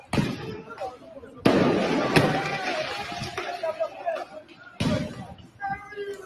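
Fireworks bang and crackle during street riots in the eastern suburbs of Paris, with several sharp bursts standing out over a noisy background of crowd sound and talk.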